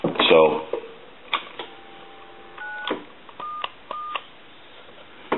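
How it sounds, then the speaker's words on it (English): An AT&T Trimline 210 telephone dials out in a string of short DTMF tone beeps with clicks of the handset and buttons between them. The sounds are close and crisp, and a brief voice is heard near the start. "we have to hang up and dial it again"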